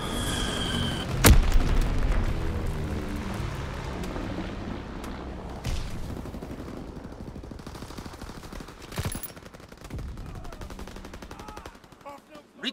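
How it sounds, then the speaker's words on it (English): Bombing run in the video game Call of Duty: WWII, with dense rumbling explosions and rapid gunfire-like bursts, a sharp loud blast near the start followed by sustained heavy rumble and further booms. "Blitz bomb mission underway."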